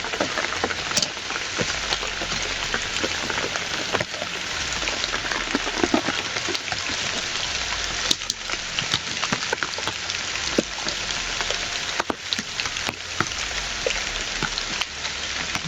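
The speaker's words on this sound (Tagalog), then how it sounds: "Grabing ulan." Heavy rain pours down hard and continuously, a dense hiss with scattered louder drops striking nearby surfaces, with no talking.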